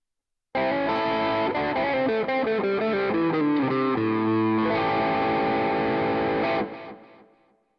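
A distorted Tele-style Aklot electric guitar, middle, neck and bridge pickups combined, plays a melodic run of single notes and chords with a chorus-like shimmer, steady and loud, ringing out to a fading end.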